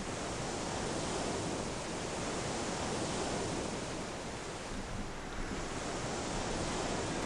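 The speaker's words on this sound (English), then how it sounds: "Oh, the ocean sounds so relaxing." Ocean surf from the EverQuest video game, a steady broadband wash of rolling waves that stays loud and even throughout with no voices over it.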